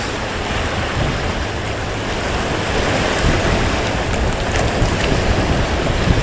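Waves washing onto a Port Phillip Bay beach with a steady onshore breeze buffeting the microphone, a continuous broad loud rush with no voices.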